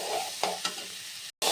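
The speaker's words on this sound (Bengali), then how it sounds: "মটরশুঁটিটা দিয়ে আরও 2-3 মিনিট একটু নাড়াচাড়া করে নেব।" Peas being stirred into spiced potatoes in a frying pan: a steady soft sizzle with two brief scraping strokes of the spoon, a short silent gap, then the sizzle returns.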